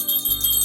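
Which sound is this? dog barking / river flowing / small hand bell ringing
small hand bell ringing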